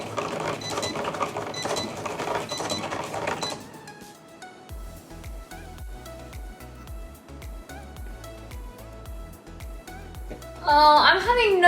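A Cricut Explore 3 cutting machine hums and whirs with rhythmic mechanical ticking and stepping pulses, following a burst of louder activity at the start; talk is heard over part of it.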